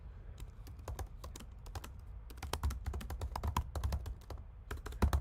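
Steady typing on a computer keyboard, a dense run of quick key clicks with short pauses over several seconds, close and fairly quiet against a low background hum.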